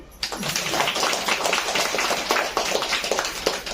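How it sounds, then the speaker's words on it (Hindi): An audience at a Brahma Kumaris class in Bhiwandi, Mumbai, claps together in a dense, steady burst of hand claps that fills the whole stretch, close and fairly loud. "ताली तो बजाओ।"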